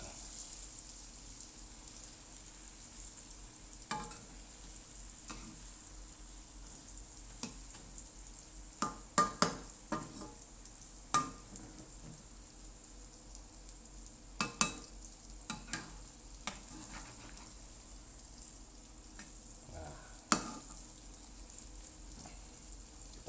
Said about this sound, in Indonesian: Kita goreng sampai kering, kuning, keemasan ya.